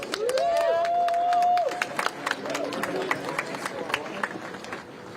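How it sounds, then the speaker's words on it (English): An outdoor crowd at a Justice for Jayland Walker march on Akron streets applauds a speaker, with a sharp whistle at the start, then a scatter of claps that thins out and fades. "Round of applause for Marquel, please."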